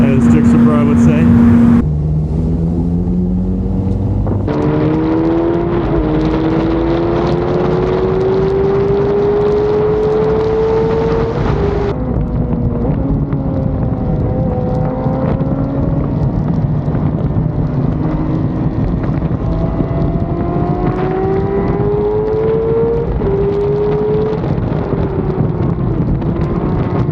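Motorcycles on a road passing by one after another, engines rising and falling in pitch as each revs through and flies past, with steady wind buffeting throughout.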